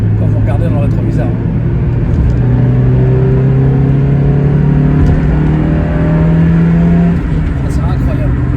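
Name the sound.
Mazda MX5 engine accelerating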